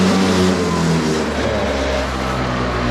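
2001 Yamaha Vino scooter being ridden after a rebuild, still smoking a little, its small engine droning steadily and close, pitch easing slightly downward, with no talk.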